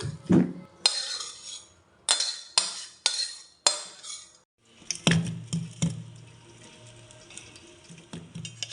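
A pot of cooked potato and cauliflower curry is lifted off a kitchen stove, bringing a string of sharp metallic clanks followed by softer rattling and a faint sizzle.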